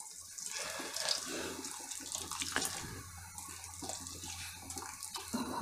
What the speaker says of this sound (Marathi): तर मी पाणी ओतून घेते, कारण आपल्याला अजून शिजवायचं आहे.